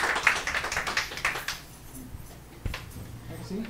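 Audience applause after a talk at an academic café event about a textile crafts market in Atitlán, Guatemala, heard as a burst of dense clapping for about a second and a half that fades into a quiet room with faint stray sounds.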